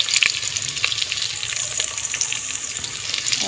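Onions browning in a pan on a stove, a steady close sizzle and crackle with some watery splashing and faint stirring, no talk.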